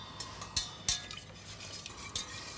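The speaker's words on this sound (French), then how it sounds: "on est parti avec un petit fouet" A small whisk beats in a bowl on a cooking set, making quick close clinks and scrapes against the side that arrive as a few sharp taps over a steady, soft stirring swish.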